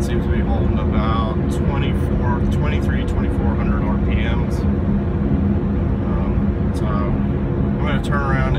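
Subaru Outback with a 4EAT automatic under tip-in throttle, out of torque-converter lockup and holding around 2400 RPM; a steady, loud engine drone fills the cabin throughout while a person talks over it.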